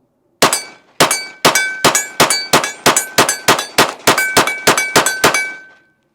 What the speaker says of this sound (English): Close slide locks in on the PSA Dagger micro mags.